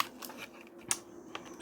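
Paper is trimmed for a beaded-spine notebook cover with decorative shaped scissors, producing a few faint, crisp snips close by in a quiet room.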